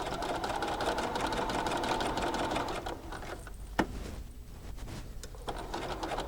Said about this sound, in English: now I'm going to put this back under my machine, back stitch